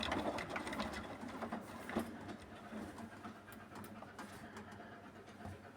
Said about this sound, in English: This Beko is going to wash at cotton's 40 degrees, 1200 RPM with extra rinse on this machine